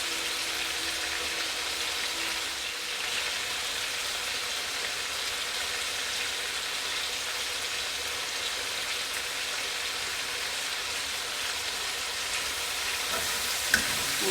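Garlic and ginger sizzle and fry steadily in a pot for split pea soup, a continuous crackling hiss close by with faint stirring, no voices.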